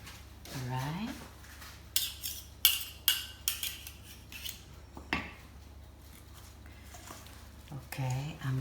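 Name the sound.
mixing potato salad with utensils in a bowl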